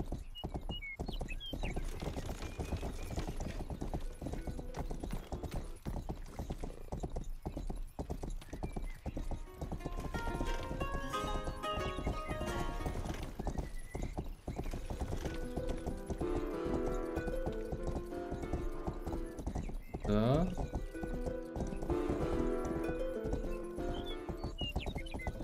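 Rhythmic hoof clip-clop of a fast horse galloping in the Western video game Rustler, steady and close throughout with music playing underneath and a brief neigh near the end.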